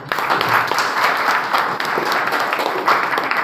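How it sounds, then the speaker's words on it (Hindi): A live audience bursts into loud, sustained applause at a wellness company gathering, dense clapping continuing steadily throughout without a break. "तो अपनी सेहत के लिए एक बार जोरदार तालियां।"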